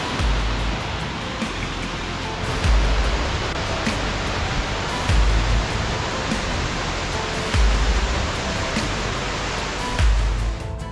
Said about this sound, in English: We're now above the waterfall.